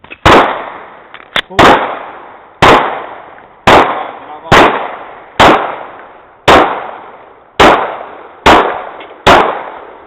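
Handgun shots during combat training outdoors, about ten loud single cracks at a fairly even pace, each with a short trailing echo, and a brief voice calling out between shots.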